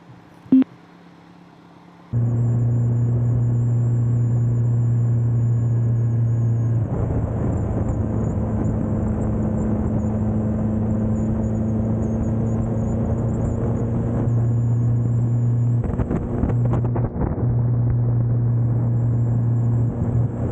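Motorcycle engine running steadily and close, a loud continuous drone with small shifts in pitch around gear changes and a brief rev burst late on, heard after a short quieter opening; no talk.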